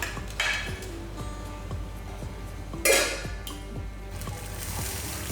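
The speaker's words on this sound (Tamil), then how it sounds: "ஒரு தட்டை வச்சு மூடி வச்சிடலாம்" A plate set down over a pan to cover it while Tamil-style kesari cooks, giving a couple of light clattering metal-and-ceramic knocks over soft steady kitchen noise.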